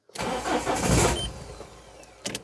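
A Citroen Berlingo diesel engine cranks hard and struggles to catch, giving a rough, loud, close churn for about two seconds before a brief fading tail.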